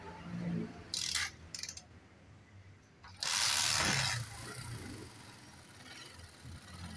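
A Honda TMX125 motorcycle with weak ignition spark is kicked several times, the mechanism ratcheting in short bursts, before the engine catches and settles into a low, uneven idle close by.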